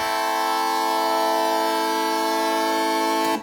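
A thick sustained vocoder synth chord with many stacked tones blares steadily like a train horn, then cuts off abruptly.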